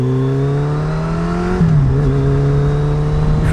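A turbocharged Suzuki Hayabusa motorcycle engine idles in a steady, close, humming drone, its pitch dipping slightly and settling partway through before holding even to the end.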